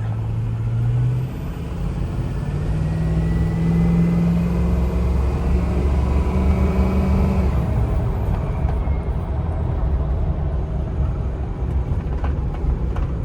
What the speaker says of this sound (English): Rides really smooth. It's not like a rough riding truck at all.